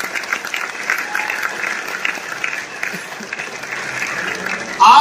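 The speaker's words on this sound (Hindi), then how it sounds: "एक बार जोरदार ताली बजा दीजिए" An audience claps strongly and steadily throughout a training event for a garden product, a dense sustained roar of applause with a voice talking over it.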